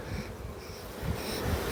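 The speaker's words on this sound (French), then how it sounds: "c'est quand même des abeilles qui viennent de la côte méditerranée aussi" Honeybees from the Mediterranean coast buzz around an opened hive during an inspection with an electric smoker, a faint, continuous drone that swells slightly in places, heard alone without talk.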